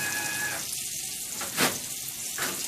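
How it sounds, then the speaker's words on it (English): Water running from a sink tap during handwashing, a steady close hiss that breaks into uneven splashing bursts as hands move under the stream. "Cut the water off."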